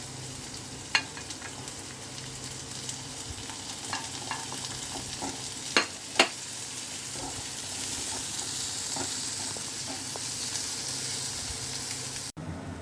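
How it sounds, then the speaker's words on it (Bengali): Onions sizzle in a pan over a steady frying hiss, with repeated scraping and clinking as they are stirred, close and moderately loud throughout. "এটা ভাজা হয়ে গেছে, এবার দিয়ে দিচ্ছি পেঁয়াজগুলো।"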